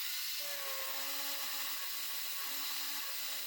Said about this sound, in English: since the drill would be spinning so fast, I could quickly sand this thing down